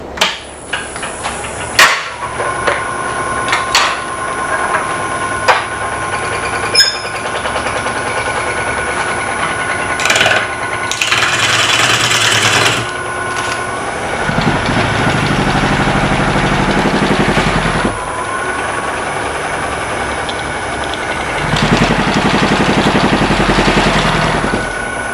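A wood lathe spins a dovetailed piece clamped in its chuck, giving a steady mechanical hum with sharp knocks and taps scattered throughout and rougher, louder whirring stretches toward the end.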